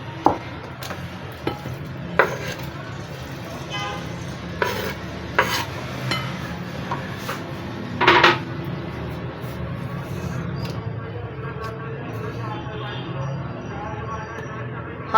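A chicken and cheese mixture is scraped and moved into a bowl, with scattered spoon clinks and scraping taps over a low background hum, and a person speaks at times.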